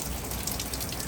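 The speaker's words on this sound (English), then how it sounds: "it is freezing rain right now" Freezing rain falls steadily outdoors during an ice storm, a continuous dense hiss of fine drops pattering on surfaces nearby.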